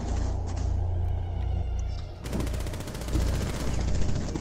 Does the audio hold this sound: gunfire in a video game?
yes